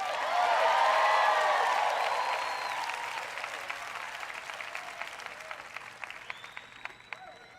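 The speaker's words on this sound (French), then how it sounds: "Allez, que quelqu'un acclame." A church congregation applauds loudly during a sermon, with a swell of clapping and cheering that gradually thins into scattered claps.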